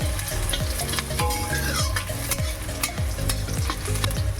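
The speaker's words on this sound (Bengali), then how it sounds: "এদিকে দেখো আবার কড়াইতে দিয়ে দিলাম পেঁয়াজ" Onions frying in a wok, a constant close sizzle punctuated by rhythmic scraping strokes of a spatula roughly twice a second, with no speech.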